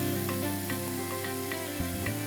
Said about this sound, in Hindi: इसको ज़रा विस्क कर लेते हैं